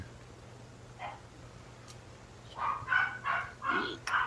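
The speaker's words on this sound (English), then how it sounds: "So there's a dog." A dog barks at night in the distance: one faint bark, then a run of four or five barks in quick succession, thin against a steady low hum.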